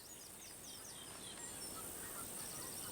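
Magpie geese at an Australian water hole giving repeated honking calls, faint and somewhat distant over a steady background hiss.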